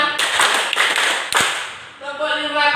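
Rhythmic hand claps from a class of schoolchildren counting along in a classroom, several sharp claps in a steady beat with voices mixed in, ending as voices take over.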